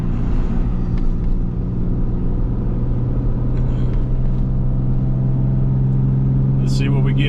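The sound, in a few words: Ram 3500 dually engine accelerating uphill while towing excavator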